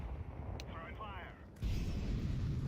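An incendiary grenade thrown in Counter-Strike 2 lands and ignites, leaving a low rumbling roar of fire that holds steady after a brief clink and swish.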